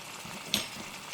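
Ground beef with pepper, celery and tomato frying in a pan gives a soft, steady sizzle, with one sharp brief pop near the middle.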